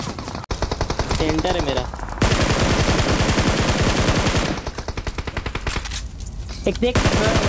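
Rapid automatic gunfire bursts in a battle royale video game, with long dense volleys of shots broken by short pauses, while a player talks over the action.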